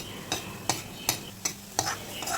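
Boiled greens being stirred in a pan to cook off the water, with five sharp scraping strokes at a steady rhythm over a faint sizzle, close and alone.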